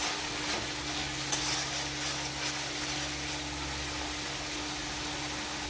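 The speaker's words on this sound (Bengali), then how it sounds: "জল দিয়ে আবারও ভালো করে নাড়াচাড়া করে নিলাম।" Masala paste with tomato and a splash of water gets stirred in a pan, a steady close scraping and sizzling hiss running evenly throughout with a faint low hum underneath, no voices.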